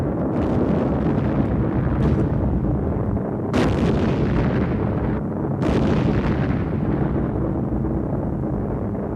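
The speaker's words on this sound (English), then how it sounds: "you can see the effect of skip bombing, where the bomb bounces off the ground on its way to the target, exploding on its second contact" B-25 Mitchell skip bombing: heavy rolling explosions and rumbling blasts, with several sharp bursts standing out over a dense, loud roar throughout.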